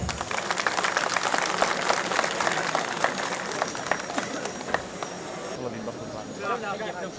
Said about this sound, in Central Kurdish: بابە چەپڵەیەکی بەهێز بفەرمون